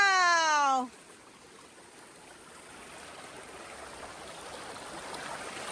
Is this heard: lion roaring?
no